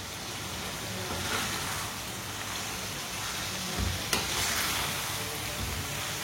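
Mustard greens being added to a hot pan give a steady, fairly quiet sizzle and frying hiss, with a soft stir or clunk around the middle.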